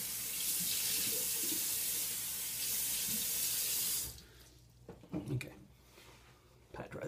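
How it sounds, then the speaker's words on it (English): A bathroom tap runs steadily and loudly as water is splashed over a face to rinse off alum after shaving, then cuts off, leaving a few faint drips and small handling sounds. "we're gonna go ahead and rinse my face one more time to get that alum off"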